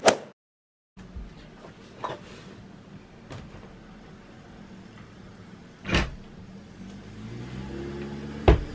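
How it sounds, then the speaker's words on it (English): Steady rumble of a truck carrying passengers in its open back bed on a Swiss road, with a few knocks and jolts and a louder thump near the end; no talking. "We found Fritz and we're riding in the back of his truck right now."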